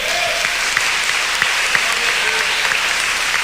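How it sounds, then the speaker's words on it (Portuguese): A church congregation claps together during a worship service, steady and dense applause that fills the space at a loud, even level for several seconds, with no voices clearly standing out. "Dê um aplauso ao Senhor."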